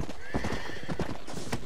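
Horse hooves clip-clop close by in Red Dead Redemption while a horse whinnies, the rhythmic hoofbeats steady and loud over the brief stretch.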